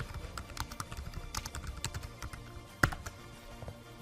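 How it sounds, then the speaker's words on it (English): Feedback being typed on a computer keyboard: a quick run of close, light key taps in an uneven rhythm, with one sharper keystroke near the end, fairly quiet with no speech. "I type in some feedback."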